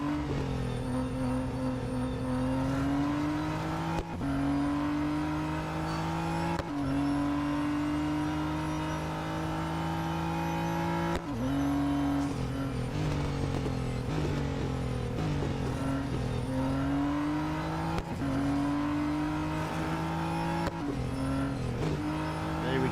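Race car engines in the Real Racing 3 video game drone and rev continuously, pitch climbing and dropping as gears shift every few seconds, loud and close, with occasional tyre noise and no talk over it.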